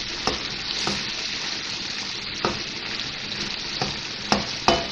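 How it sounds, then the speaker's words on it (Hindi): Tomatoes mashed into frying chicken karahi, restaurant-style Shinwari recipe: a steady close sizzle with occasional sharp clicks of the spoon against the pan, no voices. "और अब टमाटरों को हम इसमें मैश कर देंगे।"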